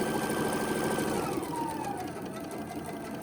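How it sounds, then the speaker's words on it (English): Sewing machine stitching a quilt border miter, a steady close whirring run of fast stitches that slows slightly toward the end, with no talk. "I'm going to stitch."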